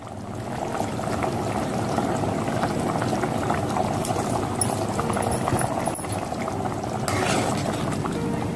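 A pot of curry bubbles at a rolling boil, close and steady, a continuous burbling wash with a brief brighter splash near the end.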